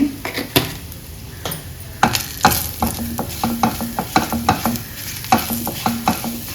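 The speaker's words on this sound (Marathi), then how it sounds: "फोडणी चांगली परतून घ्यायची" Turmeric and asafoetida tempering in hot oil sizzles steadily while a spoon stirs and scrapes the pan in quick, repeated clinks and strokes, close and fairly loud.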